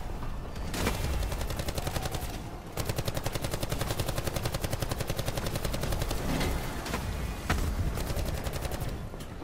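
Rapid automatic gunfire in Call of Duty Black Ops 4 zombies mode, a dense continuous stream of close, loud shots with a brief pause near the start and a short break later.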